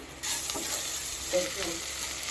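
Chopped onion, garlic and chili hit a hot oiled pan with a close, loud, continuous sizzle, with a few soft stirring scrapes over it.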